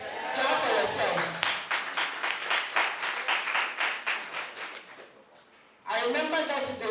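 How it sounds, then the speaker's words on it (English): Nurses and midwives gathered at a durbar in Hohoe clap together in a rhythmic, pulsing burst that fades out, with voices and speech heard just before and right after the clapping. "Clap for yourselves."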